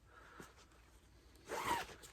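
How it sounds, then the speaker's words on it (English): A zipper on a pillow pocket is pulled open in one quick, raspy stroke, quiet and close, with a faint tick just before it. "Is there a zipper?"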